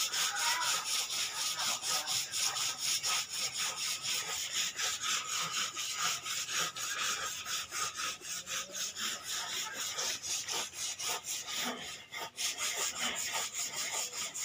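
Sandpaper rubs by hand over a wooden paddle being refinished between coats of filler, making steady rhythmic back-and-forth scratchy strokes that run continuously at close range, with one brief pause.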